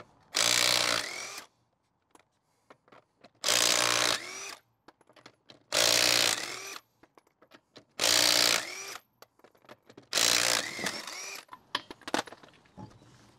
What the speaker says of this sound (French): clé à choc-là, elle a un couple d'environ 300 livres-pieds. Je vais la mettre sur la puissance maximale.